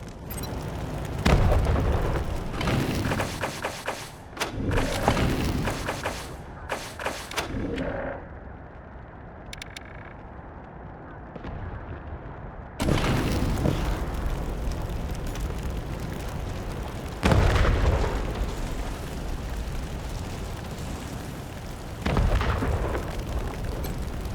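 Rocket gun explosions in the Wasteland 3 video game, a series of loud booming blasts and bursts that rumble across the clip, with a quieter lull in the middle before more heavy explosions.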